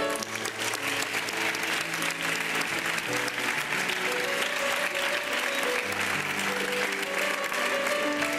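An audience at a falla presentation gives strong, sustained applause, dense clapping that continues evenly throughout, with music playing underneath.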